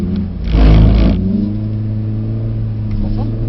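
A Mercedes AMG car on a gravel drifting track gives a loud, near engine rev that swells briefly and then settles into a steady drone, with a voice talking over it.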